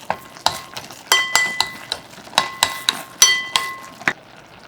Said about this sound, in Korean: 뚜껑 열고 바닥을 긁어주면서 전체적으로 골고루 섞어주세요